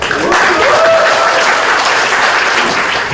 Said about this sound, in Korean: 환호와 힘찬 박수로 환영하겠습니다